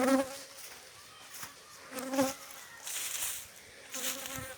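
Close, loud honeybee buzzing with a high whine, swelling and easing as the insects fly around an opened hive while a beekeeper searches for the queen.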